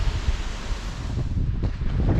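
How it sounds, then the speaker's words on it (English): Strong wind gusts outdoors in a Minnesota deer hunting area, a low continuous rumble and buffeting against the microphone, steady and fairly loud with no voices. "it's gotten super windy out"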